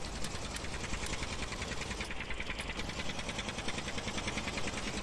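A homemade jugaad tractor with a small engine in Farming Simulator 19 runs steadily at a fast, buzzing idle, with a continuous rattling rhythm throughout and nobody talking over it.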